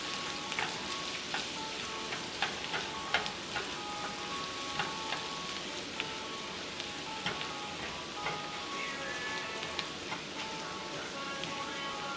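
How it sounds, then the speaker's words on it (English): Garlic sizzles steadily in a hot pan as it fries toward golden brown, a dense, even crackle with scattered sharper pops throughout, at moderate volume and with no voices. "So let's wait until the garlic is golden brown"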